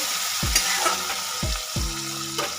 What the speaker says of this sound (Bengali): এবার টমেটোটাকেও একটু তেলের সাথে আমি হালকা ভেজে নেব